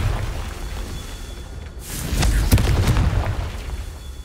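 A Confringo spell in Hogwarts Legacy blasts rocks apart in a single loud, booming burst partway through, followed by a rumbling decay of debris.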